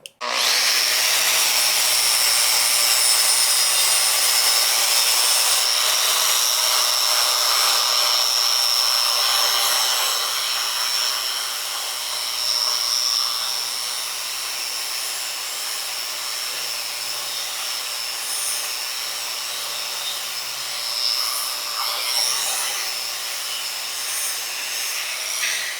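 An angle grinder fitted with a flap disc grinds down a thick stainless steel weld bead, producing a continuous loud, high whine that holds steady throughout with slight shifts in pitch as pressure varies.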